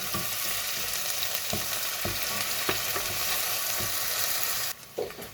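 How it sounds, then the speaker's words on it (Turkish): Chopped onions sauté in olive oil with a steady, dense sizzle, while a utensil scrapes and knocks the pan now and then. The frying sound drops away abruptly near the end. "Evet, soğanımızla soteleme işlemine başlıyoruz."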